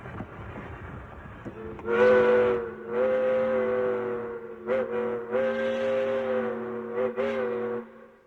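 A steam locomotive sounds its whistle in several long, loud, harmonic blasts with brief breaks between them, over a low rumble of the engine, close by and with no voices.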